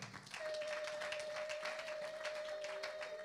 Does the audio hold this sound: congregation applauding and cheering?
yes